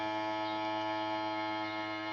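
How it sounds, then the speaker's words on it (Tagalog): A vacuum sealer runs with a steady electric hum as it seals a pack of smoked field frogs, a constant, even drone for the whole stretch. "So i-vacuum ko lang to."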